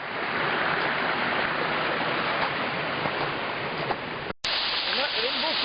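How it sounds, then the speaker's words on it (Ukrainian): A waterfall by neglected trout ponds, now running over an artificial dam, roars as a loud, continuous broadband rush close by, with one brief dropout near the end. "От ми підійшли до водоспаду жонка."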